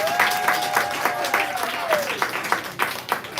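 An audience claps and cheers for a poet at a poetry slam in Houston, a dense burst of applause with whoops and a whistle sliding down through it, steady and close.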